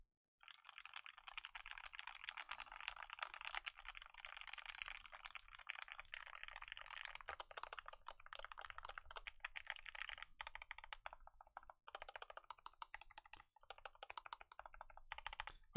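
Mountain Ergo mechanical keyboard being typed on continuously, a steady quiet stream of clacky keystrokes with brief irregular pauses and no voices.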